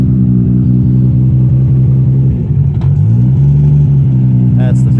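A Supra race car engine runs nearby with a loud, deep steady drone and a slight rise in pitch partway through, with faint clicks toward the end.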